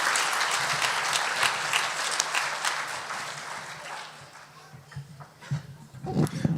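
An awards-ceremony audience at a livestock auctioneer championship claps for a new appointee, applause fairly loud at first, then thinning into scattered claps and brief crowd noise as it fades.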